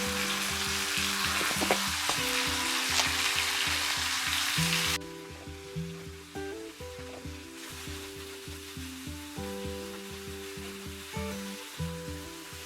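Chopped tomatoes with salt and turmeric sizzle steadily in a hot pan with rhythmic scraping and stirring, loud at first, then dropping to a softer, quieter fry halfway through as the heat is lowered.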